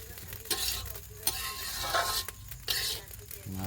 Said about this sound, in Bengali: চাল ভাজা চলতেছে চাল আর ডাল